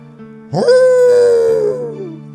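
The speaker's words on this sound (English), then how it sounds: "The howling doesn't stop" A single drawn-out dog howl in the Tsukihime video game rises, holds, then tapers off, loud and close over a faint steady tone.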